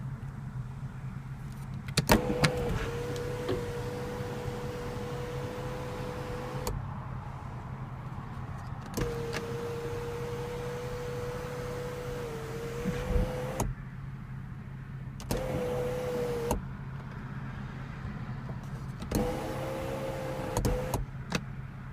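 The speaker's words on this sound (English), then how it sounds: "sunroof with one touch open," Electric sunroof motor on a 2014 BMW 435i coupe opening and tilting: several steady whirring runs of a few seconds each, separated by short pauses and soft clicks, heard close up inside the quiet cabin.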